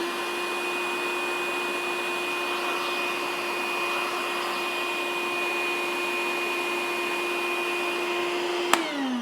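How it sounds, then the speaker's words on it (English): Dewalt DCV581H cordless and corded wet dry vac running in blower mode, a steady close whine and airy roar with a constant tone, holding level until it shuts off near the end and the pitch drops away. "let's turn on to the blower and see if it's any louder"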